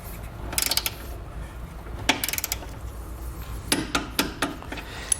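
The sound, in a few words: torquing bolts with a 19mm socket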